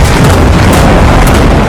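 Explosive demolition brings down three towers with about 180 kilograms of explosives, a very loud, sustained roaring blast that fills the whole short stretch with dense rumble.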